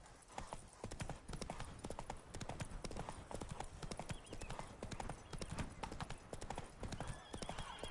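Roach, the horse from The Witcher 3, gallops hard and close, a fast dense run of hoofbeats pounding throughout with a snort or whinny mixed into the game's ambient din.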